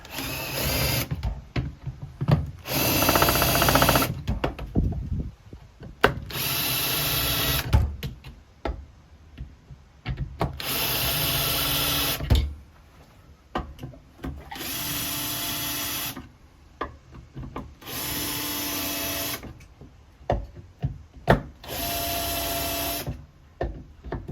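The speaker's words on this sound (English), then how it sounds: "I'll put the holes through on the drill press." A drill press whines in repeated bursts, each a few seconds long, drilling holes for an impact power hoe, separated by pauses with clanks and handling noises between holes.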